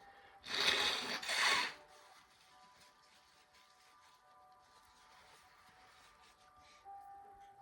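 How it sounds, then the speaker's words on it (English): A person blowing their nose, two strong, breathy honking blasts close to the microphone in quick succession, followed by quiet room tone with a faint tonal hum. "while I blow my schnoz for a second"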